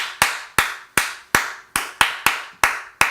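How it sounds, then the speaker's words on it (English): Eight sharp hand claps in a steady, slightly uneven rhythm, each one loud and close with a quick decay, and no talking. "Those are all good claps."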